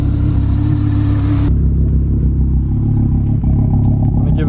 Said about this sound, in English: gray R would not be this loud just idling like that. It is misfiring a little bit, it sounds like.